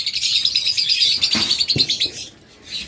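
Budgerigars chirping in a bird shop, a dense flurry of quick high tweets and chatter from several birds at close range, with a couple of brief soft knocks.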